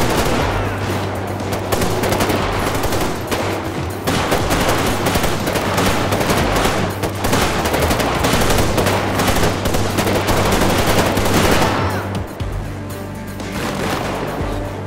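Sustained bursts of rapid gunfire from a GTA 5 zombie survival mod, dense and loud for most of the stretch, easing off near the end, with no voices over it.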